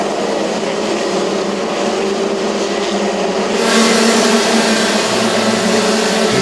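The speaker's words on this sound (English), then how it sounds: "These cars really do make some noise as they come across the commentary box." Race cars passing a trackside commentary box during a Thailand racing round, a loud continuous engine roar that swells further as cars come by, heard close and alone with no talk.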